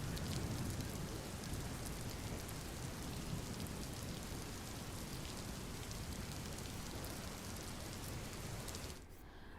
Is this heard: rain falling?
yes